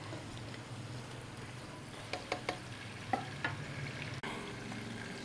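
Almond egg korma masala cooking gently in a pan, a faint, even simmering sizzle with a few light spatula clicks and scrapes.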